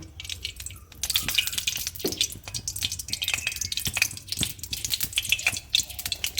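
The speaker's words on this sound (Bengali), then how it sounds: "কড়াইটা তেতে গেছে আমি সর্ষের তেল দিয়ে দেব পরিমাণ মতো" Mustard oil is poured into a hot wok, producing close, crackling spits and scattered sharp pops over a low liquid hiss.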